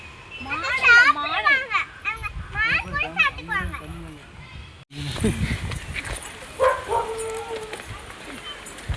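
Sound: dog barking at a dam with children playing

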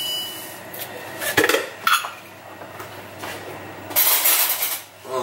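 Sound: frying pan being put on the stove

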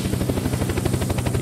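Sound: helicopter flying in Unturned video game

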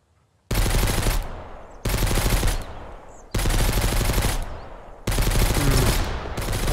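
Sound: gunfire in the video game Mist Survival

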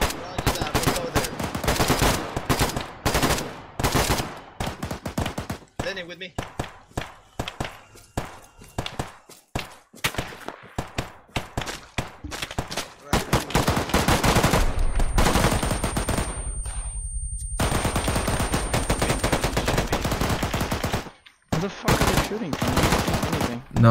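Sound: BTR vehicle gunfire in video game ARMA 3

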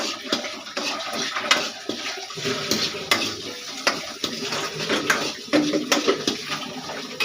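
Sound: lightly sautéing in a pan

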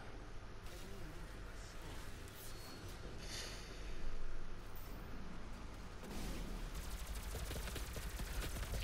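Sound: gunfire in the video game Doom

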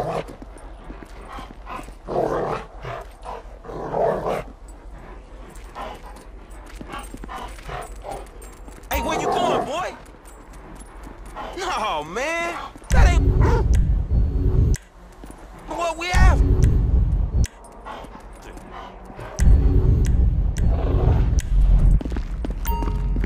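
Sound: dog barking and whimpering in video game GTA 5

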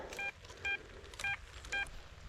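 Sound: XP Deus metal detector signal beep

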